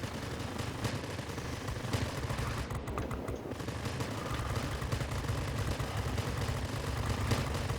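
Machine guns firing in World of Warplanes during a jet fighter dogfight, rapid continuous bursts of gunfire over a droning aircraft engine, loud and close throughout.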